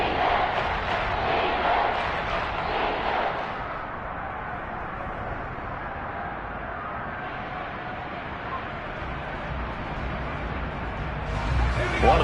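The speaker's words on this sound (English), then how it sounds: "the crowd getting into it as we come up on a big third down" Stadium crowd in the Madden football video game roars loudly and steadily, swelling at the start and again near the end, with commentary voices running over the noise.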